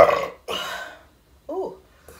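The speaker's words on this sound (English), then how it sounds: "burp." A person eating shrimp parmigiana and fries lets out a few short, loud, close burps with brief pauses between them.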